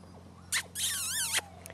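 Puppies give a few high-pitched whimpers and squeaks, including one longer wavering whine, close by and fairly faint over a steady low hum.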